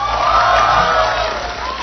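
A New Year's Eve concert audience claps and cheers for the singer, a full, continuous wash of applause at steady loudness with scattered shouts mixed in.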